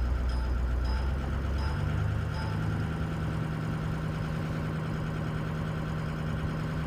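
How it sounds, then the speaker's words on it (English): A 2005 Ford Excursion engine runs during a turbo test, giving a steady, fairly close low rumble with no clear rev swell. There are no voices. "let's go ahead and run the RPMs up a little bit"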